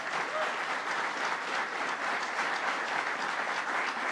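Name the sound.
audience applause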